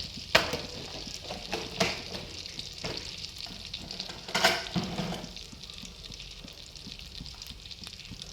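Cumin seeds sizzle in a mix of oil and butter, a close, steady crackle with several sharp utensil knocks early on, then a softer continuous fry; no one speaks.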